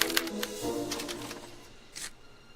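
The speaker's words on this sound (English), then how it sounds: "they're relayed to this special typewriter, which prints out a punch card that represents the subject's mind map" Typewriter-like mechanical printer in the Back to the Future video game, punching out a card: a quick burst of sharp clacks and taps, then a brief whirring stroke near the end, fairly faint.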